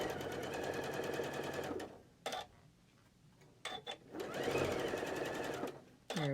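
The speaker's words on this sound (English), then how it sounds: "we're just going to sew right down the right side of this" A sewing machine stitches a quarter-inch seam down the side of a quilt block in fast, rattling bursts, with pauses between runs and a brief murmur of talk.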